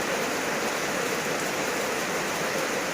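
Heavy rain pours down steadily, a dense, loud, unbroken hiss of water hitting surfaces close by with no pauses.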